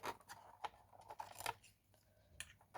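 Scissors snipping through paper while making a notelet box, a quiet series of short crisp cuts close by, spaced unevenly.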